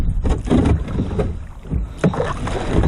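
A canoe on a shallow creek grinds and scrapes over the bottom while being paddled, giving loud, close, uneven rough bursts with brief gaps and some wind buffeting the microphone.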